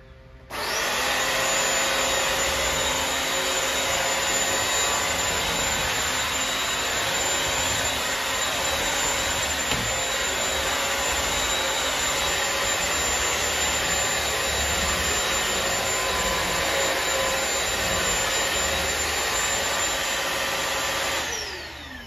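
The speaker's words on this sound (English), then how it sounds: "so far, the vacuum works really good" A Bissell CrossWave wet-dry floor vacuum cleaner runs steadily and loudly with a high whine and whooshing airflow, starting abruptly and cutting off near the end.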